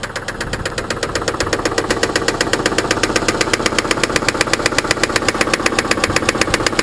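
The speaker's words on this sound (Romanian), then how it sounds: "Dacă auzi un sunet metalic puternic ce se aude în tandem cu mersul motorului și provine din interiorul motorului" A car engine running with a loud, rapid metallic knocking from inside the engine, a steady mechanical rhythm tied to engine speed, close and continuous with no voices.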